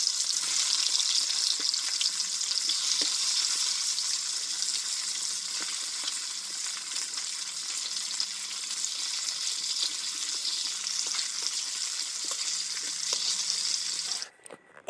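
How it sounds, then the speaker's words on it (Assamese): Fish rubbed with turmeric and salt fries in a hot kadai, a steady loud sizzle that runs unbroken for the whole stretch before cutting out abruptly at the very end. "এতিয়া কেৰাহী গৰম কৰি ধুনীয়াকৈ ফ্ৰাই কৰি ল'ম"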